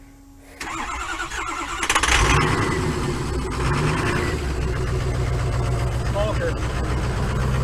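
An engine cranks and catches at around two seconds, then settles into a steady, loud idle with a mid-pitched rumble that carries on to the end, with a brief word spoken over it.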